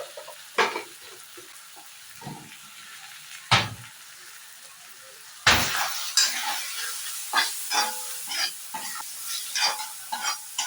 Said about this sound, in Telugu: ఒక 2 నిమిషాల పాటు వేయించుకోవాలి.